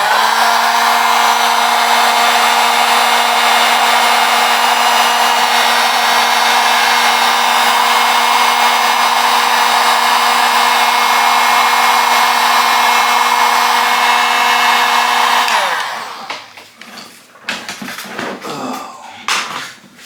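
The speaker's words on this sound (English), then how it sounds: "So I get my heat gun and put a little end on it like that." A heat gun blows steadily on heat shrink over a wire end while fitting a variable-speed fan controller on a 1980 Chevy Caprice; the loud, even whine with a constant hum runs about fifteen seconds, then cuts off, leaving clatter and handling noises.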